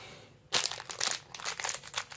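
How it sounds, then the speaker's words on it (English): A plastic blind bag holding a Star Wars Doorables toy is pulled and torn open, making close, loud crinkling and crackling in bursts with short pauses between them. "I cannot get this bag open."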